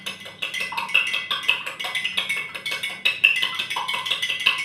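A spoon clinks and scrapes against a glass in quick, repeated strokes while a salted mixture is stirred, sounding close, bright and steady with no talking.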